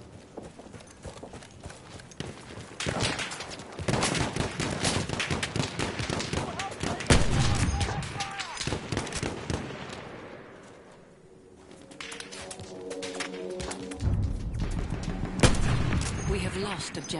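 Gunfire and battle noise in Battlefield 1, with dense bursts of shots and impacts alongside galloping hooves, loud and close, easing off mid-way before surging again, with a player talking over it.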